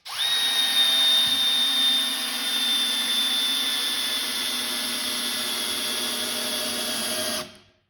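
A Milwaukee M12 installation driver in speed 1 drives a 4-inch trim head screw, giving one steady, loud, high whine that runs unbroken for about seven seconds and then stops abruptly, with no talk.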